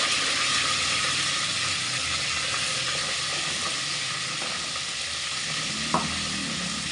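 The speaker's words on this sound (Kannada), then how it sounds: "ಸಾಸಿವೆ ಚಿಟ್ಲತಿದೆ" Mustard seeds splutter in hot oil as an old-style greens sambar is started, a loud continuous sizzle with dense crackling and one sharp pop near the end, no voice over it.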